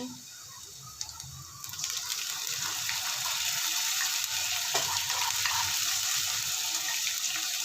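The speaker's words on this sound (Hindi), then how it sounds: "लहसुन अदरक की अच्छे तरीके से भुनाई किया करें" Garlic and ginger sizzle in hot oil with browned onions for dahi aloo masala, a steady close hiss that swells after a soft start and runs on with faint stirring clinks.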